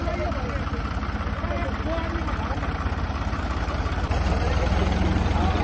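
A Kubota tractor's diesel engine chugs loudly and continuously at a tractor pulling contest, the steady pulsing throb rising slightly near the end, with crowd voices mixed underneath.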